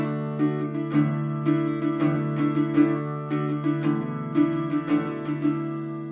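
Acoustic guitar strummed in a steady rhythm, chords ringing with quick hammered-on notes sprinkled through, close and clear with no talking.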